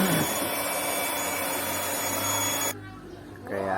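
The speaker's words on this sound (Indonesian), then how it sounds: "Tinggal kita mixer sampai" An electric mixer whirs steadily in a basin of about 4 kilos of risol batter, a continuous motor drone that cuts off near the end before a brief restart.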